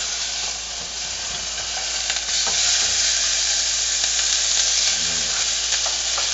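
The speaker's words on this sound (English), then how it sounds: "Put the onions in there." Onions sauté in a hot pan for pork adobo with ampalaya, giving a loud, continuous, close-up sizzle and hiss with faint stirring scrapes underneath.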